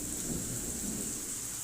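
Steady heavy rain pours continuously while a low thunder rumble rolls underneath, filling the whole moment without any voices.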